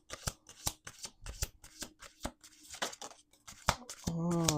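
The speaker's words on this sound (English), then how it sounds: "let's do 2 more shuffles." A deck of cards shuffled during a card reading, giving a run of crisp riffling flutters and taps at close range in a quiet room, with a voice briefly heard at the end.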